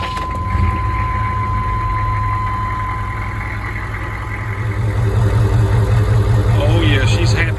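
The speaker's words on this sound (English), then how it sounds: "This thing cranks up like a different vehicle now." A diesel truck engine runs at a steady, loud idle after a filter change and filter box relocation, with a continuous low rumble throughout.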